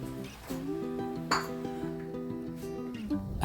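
A lid set onto a pan of water on the stove while potato kulchas cook, giving a few bright metallic clinks, the sharpest midway and another at the very end, over a steady tonal background.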